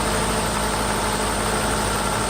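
A Mercedes S600 engine idles steadily on a cold start, a constant even hum with no changes in pitch or pace over a couple of seconds.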